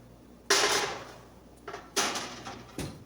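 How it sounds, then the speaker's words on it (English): A cake pan is slid into a kitchen oven: two sharp metallic clunks of the pan and rack, each followed by a short scraping slide and a softer knock, close and alone without talk. "I'm going to carefully put it in the oven now."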